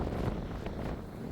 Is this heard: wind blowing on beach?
yes